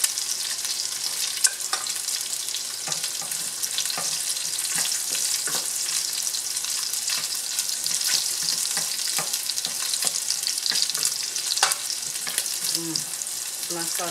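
Garlic fries in rendered pork fat for a shrimp and pork pinakbet, a continuous bright sizzle close up with scattered stirring clicks and scrapes against the pan.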